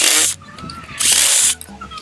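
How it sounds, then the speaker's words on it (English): Power drill backing screws out of a wooden Adirondack chair slat, two short loud whirring bursts separated by a pause, with faint clicks and knocks in between. "use a drill to take the screws out"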